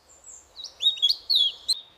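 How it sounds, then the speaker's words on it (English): Small forest birds chirping, a few quick high tweets and short song phrases close by against a quiet background. "the forest awakens, and the early birds begin their timeless melody"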